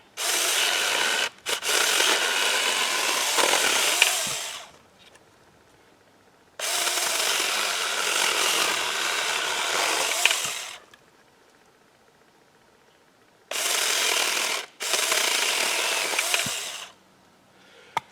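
A battery-powered saw cuts wood into firewood in three loud, sustained bursts of several seconds each, with quiet pauses between them as the blade stops and restarts.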